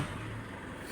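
Isuzu 4JJ1 diesel truck engine cranking and catching, then idling as a steady low rumble that fills the short moment, close by.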